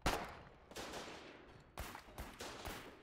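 Gunfire from a weapon in the war game Foxhole: several sharp, loud bursts of shots with echoing tails, an opening crack followed by spaced volleys, with no talk over them.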